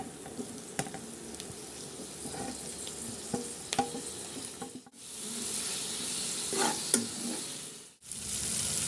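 Tomatoes frying in a pan give a steady, close sizzle with stirring scrapes, broken by two short pauses, no one speaking.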